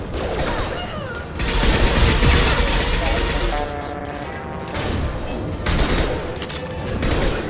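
High-impact gunshots in the video game Mass Effect 2, a dense run of loud heavy shots and crashing impacts over steady battle noise, with a voice calling out amid the firing.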